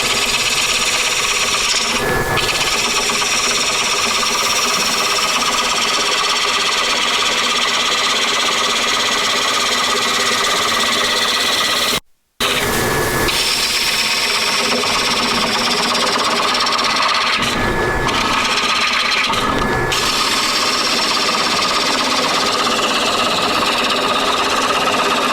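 A half-inch gouge cuts a bowl from a log on a wood lathe, giving a loud, steady scraping and rasping that runs almost nonstop, with a brief gap midway and a few sharper bursts where the tool catches.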